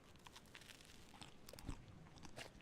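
Subtle chewing and crunching from the horror game Rot in Paradise, soft irregular bites and crackles scattered over a low ambient drone, faint and close, with no talking.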